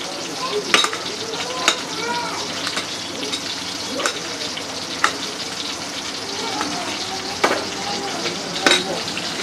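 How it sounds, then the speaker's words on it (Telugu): Tomatoes frying in a pan for chutney while being stirred, a continuous close sizzle broken by scraping spoon strokes every second or so, with a voice speaking now and then. "కొద్దిసేపు ఇలా కలుపుకుంటూ ఫ్రై చేసుకుంటున్నాను"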